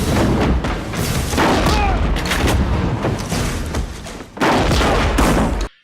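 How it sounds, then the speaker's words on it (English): Gunfire from the 1997 film L.A. Confidential comes as a loud, dense shootout of heavy booming shots and bursts, briefly easing before another loud volley, ending in sudden silence. "shoot someone from under the ground and then come up and shoot like 2 or 3 other guys."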